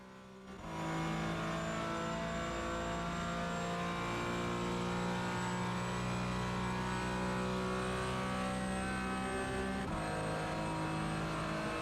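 The engine of a Porsche 718 Cayman GT4 in iRacing at Fuji Speedway drones loudly and steadily, with a strong tonal whine. The pitch holds or rises only slightly over about eleven seconds, with no talking.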